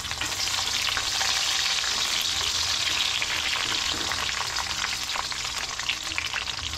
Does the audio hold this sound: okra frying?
yes